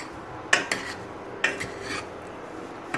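A spoon scraping and clinking against a pot while stirring semolina halva, with a few distinct metallic knocks spaced apart over a quiet background.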